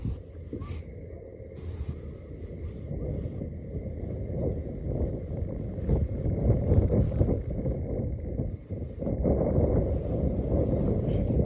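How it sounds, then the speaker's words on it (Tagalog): Strong wind buffets the microphone outdoors during a long-range airgun shooting session, a steady low roar with gusts that swell louder toward the end, heard alone without speech. "So yan, ang lakas ng hangin."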